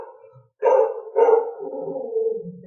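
A dog gives a couple of loud, close barks that stretch into a drawn-out howling whine, heard alone in a quiet indoor space.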